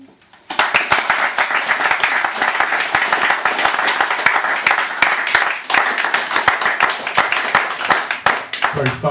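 Warm, sustained applause from an audience after a poetry reading in London, starting suddenly and continuing as a dense stream of individual claps, with a voice speaking over it.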